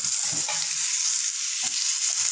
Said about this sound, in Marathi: आता आपण यामध्ये कट केलेले बटाटे देखील ॲड करूयात आणि व्यवस्थित मिक्स करून घेऊयात